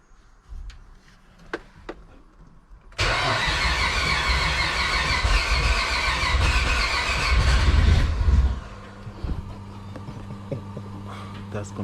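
A Nissan VH45 V8 swapped into a G35 cranks over with a loud, steady mechanical churn for about five seconds after a quiet start. It then cuts off, leaving a low hum and faint background voices.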